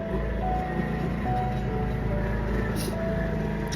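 A motorized tricycle passes outside a home and sets off a steady, droning engine rumble. The low, continuous noise holds for a few seconds, with faint melodic background music mixed in.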